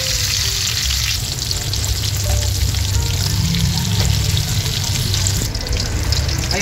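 Chicken fries in hot oil, a loud, dense and continuous sizzle close up that fills the whole stretch without a break.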